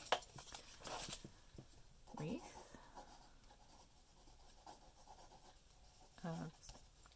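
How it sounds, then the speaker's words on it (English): A pen scratches notes by hand on paper in soft bursts of rubbing strokes, close and quiet, separated by short pauses, in a stitching workspace. "Write that down."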